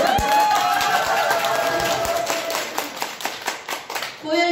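An audience at an indoor health seminar claps in scattered, uneven bursts, the separate hand claps distinct and thinning toward the end, with a voice speaking over part of it.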